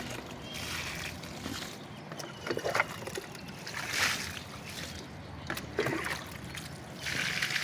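Water poured onto a pumpkin plant in a vegetable garden, soft trickling and splashing in uneven bursts, fairly quiet and close, with no talking.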